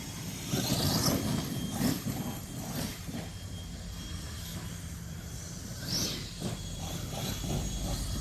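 An ARRMA Mojave 8s RC truck runs at about half throttle, its motor whining in and out at a distance as it passes, with surges and a couple of sharper high bursts.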